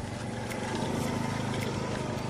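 A vehicle travels along a road near a farm, giving a steady, continuous engine and road rumble with no clear voices over it.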